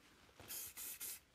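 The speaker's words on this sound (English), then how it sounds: "Spray that on your fingers, just rub it together" Three short bursts of spray as Poke on leaf shine is misted onto sticky, glue-covered fingers, close and soft, with brief pauses between the hissing pumps.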